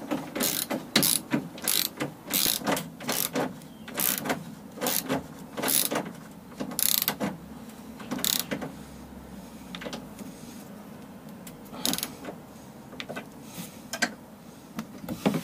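A hand ratchet with a Torx 50 bit and a 22 mm socket tightens car suspension wishbone pivot bolts, giving bursts of sharp rapid clicks separated by short pauses, close and fairly loud.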